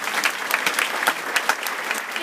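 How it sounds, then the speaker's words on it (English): A crowd at a school back-to-school night applauds the leadership teacher, dense steady clapping from many hands filling the room for a couple of seconds. "Let's give her a round of applause."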